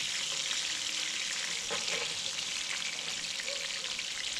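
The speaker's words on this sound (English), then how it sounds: "It's splattering. You gotta be careful with the splats." Freshly caught redfish fries in a pan, a dense continuous sizzle with crackling splatters and pops, close and steady, with no talking.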